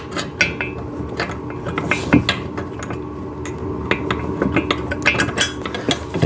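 Metal bolt and washer being handled while assembling a Garvee chest press machine, with light clinks, taps and scraping clatter scattered irregularly across the clip, close by.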